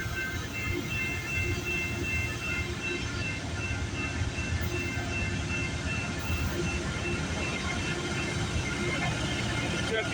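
A CPKC westbound freight train with CN unit 8038 leading rolls past at mile 38 on the Galt subdivision in Campbellville, Ontario, a steady loud rumble of wheels and cars filling the whole stretch without letup.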